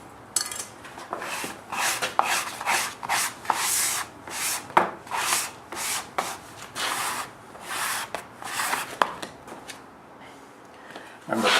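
Dough balled up by hand on a floured work surface: soft rubbing, pressing and slapping strokes repeat in an uneven rhythm, close and fairly clear, with no talking over them.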